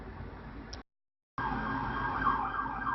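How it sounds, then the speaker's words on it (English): Emergency siren wailing on the road, heard before and after a short dropout, a steady mid-pitched tone over traffic rumble at moderate distance. "Hear a siren?"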